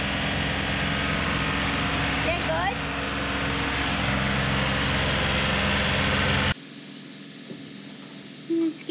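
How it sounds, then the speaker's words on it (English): A loud tractor engine drones steadily for several seconds, then cuts out abruptly and leaves quieter background sound. Voices are faintly audible under the noise. "He's a scary tractor."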